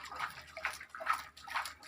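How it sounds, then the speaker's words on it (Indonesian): Water poured over layered compost of goat manure and animal dung in a garden, splashing in four rhythmic bursts, close and fairly soft. "Baru kita siram-siram secara merata aja, Pak."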